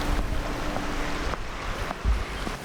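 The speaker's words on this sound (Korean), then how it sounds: "바로 옆에서 제 귀로 바로 들어오는 파도 소리" Ocean waves wash against the shore beside the Heonhwa-ro coastal road in Gangneung, a continuous close surf roar with wind buffeting the microphone and occasional louder gusts.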